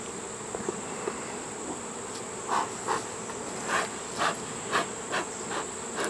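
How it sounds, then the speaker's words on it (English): A steady insect buzz from many honey bees around a hive box, continuous and fairly close, with a few louder swells as individual bees pass nearby. "now you see how the bees are coming across the edge of that box?"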